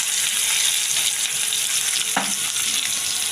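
Cumin seeds crackling in hot oil with tomato and onion, a steady close sizzle with a light stir and a single sharp clink partway through.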